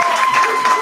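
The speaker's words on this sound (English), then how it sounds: "Come on, clap it up" An audience at a 2021 graduation ceremony in Atlanta claps and cheers, a dense, steady wash of applause and crowd noise filling the whole short moment.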